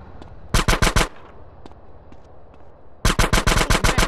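Automatic gunfire in the GTA San Andreas video game on Android: two sharp, loud bursts of rapid shots, a short volley of about five followed after a pause by a longer rattle of around ten.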